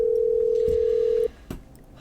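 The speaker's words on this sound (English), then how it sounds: "I'm dialing." In the horror game Killer Frequency, a steady telephone tone holds loud and clear for more than a second before it cuts off, and a soft click follows.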